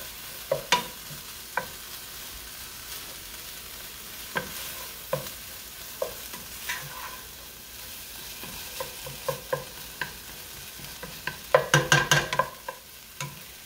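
All-purpose flour stirred into beef stroganoff in a pan, with spoon clicks and scrapes against the pan at an irregular pace over a low sizzle, ending in a quick burst of rapid stirring.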